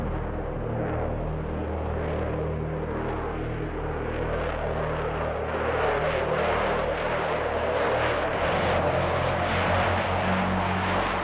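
An ER-2, a modified high-altitude single-engine jet aircraft, flies overhead as a steady, loud broadband roar with low rumbling tones, swelling brighter and louder partway through.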